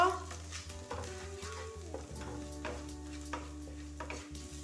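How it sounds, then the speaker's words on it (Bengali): Ground spices, cumin paste, salt and turmeric, fry and are stirred in a pan for a vegetarian pumpkin greens and lentil dish, giving a soft steady sizzle with light scraping strokes, fairly quiet and close. "ভালো করে ভেজে নেব।"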